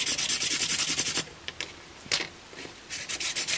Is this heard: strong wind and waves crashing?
no